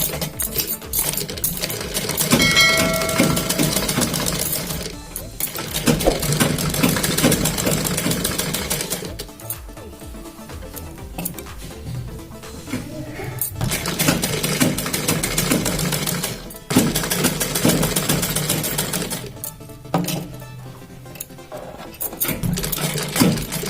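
A sewing machine stitches a baby cap in bursts of steady mechanical whirring, pausing briefly between runs, close and moderately loud.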